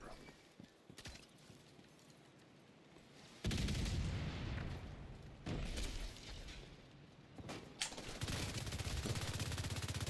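Gunfire in The Division 2, bursts of loud automatic shots breaking out after a quieter stretch and returning in heavy runs, with a little speech in the background.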